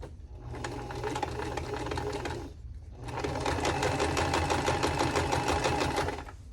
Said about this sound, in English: My sewing machine's all mad at me now